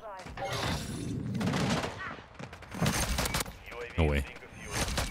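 Rapid gunfire from a weapon in the video game Modern Warfare 3, bursts of shots crackling between stretches of a player talking over the game.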